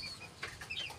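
A backyard chicken being held lets out a few soft, quick clucks close by in a brief moment, with no one talking.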